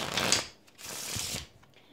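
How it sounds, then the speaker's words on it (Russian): Riffle shuffle of a deck of playing cards: two quick bursts of dense, crisp card flutter, each about half a second long, close and clear with no voices. "когда мы вот так тасуем карты друг на друга"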